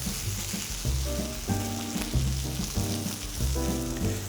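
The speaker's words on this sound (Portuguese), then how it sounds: "ele já está em fase de fritura." Food fries in a pan with a steady, close sizzle, while a rhythmic tonal backing runs underneath and no one speaks.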